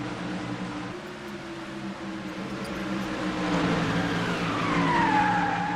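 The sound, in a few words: race cars at Bristol in racing video game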